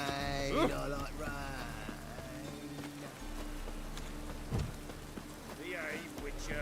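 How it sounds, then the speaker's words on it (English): Steady rain falls in the video game The Witcher 3, a constant patter mixed with in-game music and ambient sounds, with a few brief louder swells. "Rain, I like rain."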